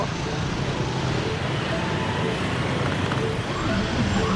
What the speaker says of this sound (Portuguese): Eita, tem moto para todo lado.